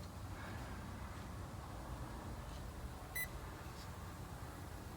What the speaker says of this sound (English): it should beep once, showing me I'm in setting 1